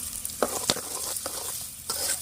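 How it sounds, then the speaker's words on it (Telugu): Chicken sukka fry with chili powder being stir-fried in a village kitchen, with sizzling oil under quick, irregular scrapes and clacks of a spoon against the pan, close and moderately loud. "కారం వేసుకొని మంచిగా ఫ్రై చేసి సుక్క ఫ్రై మొత్తం ఇక దగ్గరకు వచ్చేదాకా ఇప్పుడు పెట్టు."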